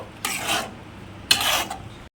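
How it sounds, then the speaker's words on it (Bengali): Two separate bursts of scraping as lote fish (Bombay duck) is stirred and turned in a cooking pan, each lasting about half a second, moderately loud with quiet gaps between. "মাছটা দিয়ে এইভাবে কিন্তু নেড়ে নেড়ে রান্না করে যেতে হবে"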